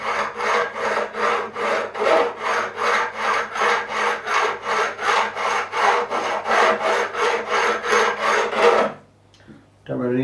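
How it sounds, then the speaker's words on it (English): A levelling tool rubs back and forth along the frets of a Tanglewood TW47 guitar, about two dozen even, rasping strokes in a steady rhythm, close and alone, ending in a brief pause and a light tap. "I'm just going to roll this back and forwards on the fret I need to take down"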